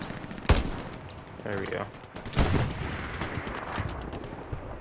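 Gunfire sounds in a trench-warfare video game, with sharp loud shots and rattling bursts near the start and middle under a steady noisy battle backdrop, while a player talks briefly over it.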